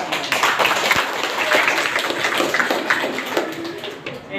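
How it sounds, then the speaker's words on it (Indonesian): Pupils in a classroom clap together in a dense, fairly loud burst of hand claps that holds steady before thinning at the end, with a few voices mixed in. "Tepuk tangan dulu, Mas."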